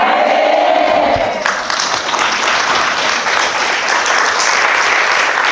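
A church congregation claps and cheers loudly in a dense, continuous roar of many hands and voices, the crowd swelling a little after the first second and staying full throughout.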